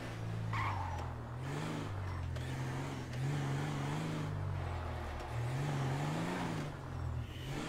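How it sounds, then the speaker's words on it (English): A 4x4 off-roader driving in a GTA 5 PC drift handling mod, its engine a steady low drone with gentle pitch swells as it revs and cruises, continuous and fairly quiet. "I like the 4x4 in the drifting mod in this mod the best."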